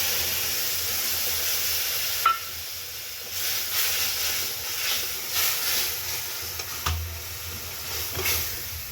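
Mustard and poppy seed paste with turmeric sizzles in a hot pan for shorshe ilish, a steady close hiss broken by a few soft clicks from stirring.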